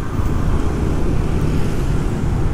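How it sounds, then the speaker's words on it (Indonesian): A long traffic jam on a road in Bali gives off a loud, unbroken roar of idling and creeping cars and other vehicles nearby, steady throughout with no talking. "Macetnya panjang sekali ini."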